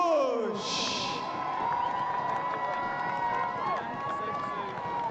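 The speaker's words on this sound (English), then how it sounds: "Please, a very warm round of applause for George" Crowd at the Comrades Marathon finish in South Africa applauding the winner: a continuous, distant roar of clapping and cheering with a voice speaking over it throughout.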